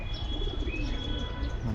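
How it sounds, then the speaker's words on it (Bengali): A flock of pigeons gathers at Wards Lake in Shillong while people feed them. Soft bird calls and chirps come through over steady outdoor ambience, with faint cooing and a hint of wing flutter at close to moderate range. "এই যে কবুতর, অনেকগুলা কবুতর এখানে"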